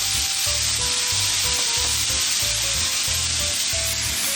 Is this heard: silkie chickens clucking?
no